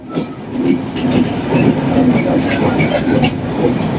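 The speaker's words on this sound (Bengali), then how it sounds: "তিরিশ মিনিট লেট করে আমাদের ট্রেনটি ছাড়লো" A Chilahati Express passenger train pulls out of Kamalapur railway station, its wheels clattering steadily over the rails with a continuous loud rumble close by and occasional faint voices.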